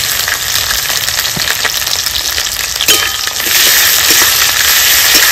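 Chopped onion and garlic frying in hot oil with mustard seeds for a taro-stolon chorchori, a loud continuous close sizzle that swells slightly partway through, with no talk.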